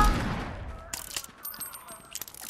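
Rapid gunfire in a murder mystery video game, a string of sharp cracks after a louder opening blast, moderately loud, with a voice talking underneath.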